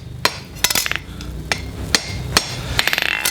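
Hot iron forged by hammer on an anvil while rolling barrels for hinges, sharp metallic strikes landing near and loud in irregular single blows and quick bursts of rebounds.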